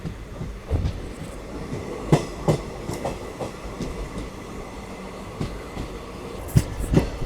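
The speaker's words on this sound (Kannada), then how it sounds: "ಪ್ಲ್ಯಾಟ್ಫಾರ್ಮ್ ನಂಬರ್ 2ಗೆ ಹೋಗ್ತಾ ಇದೆ ನಮ್ಮ ಟ್ರೈನ್." Kuvempu Express passenger train rolling slowly into Arsikere Junction toward platform 2, running about ten minutes late, with steady low rumble and scattered wheel clacks and jolts, no talking.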